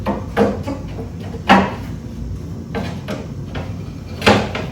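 A rear door window on a 1975-79 Chevrolet Nova is cranked up by hand, giving repeated scraping, clunking mechanical strokes at an uneven rhythm. The strokes are close and moderately loud, with no talk.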